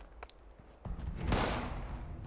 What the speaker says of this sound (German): Also die Supermutanten schießen zurück.